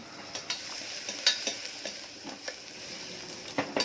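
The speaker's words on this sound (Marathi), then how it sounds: "मध्ये गॅसवर मी आता इथे हिरव्या हरभऱ्यांची जी भाजी होती ती घालून घेत आहे" Green chickpea curry going into a pan on a gas stove and being stirred, with soft scraping and clinking spoon strokes at an uneven rhythm over a low simmer, close and fairly quiet.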